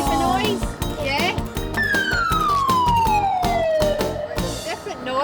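A police van siren wails loudly and steadily, its pitch sliding in long sweeps, with a voice and other talk faintly underneath.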